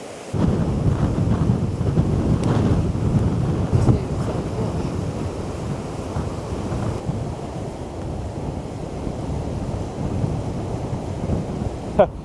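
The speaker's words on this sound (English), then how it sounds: "The wind is ferocious. We'd almost be blown over." Ferocious wind blowing at an exposed outdoor spot beside a road, a loud continuous roar and buffeting against the microphone that lasts throughout, with brief louder gusts and no voices.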